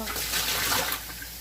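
Water runs steadily from a tap into a cooking pot with a continuous rushing splash, close and fairly loud, easing off near the end.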